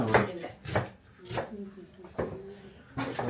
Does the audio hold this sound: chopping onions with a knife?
yes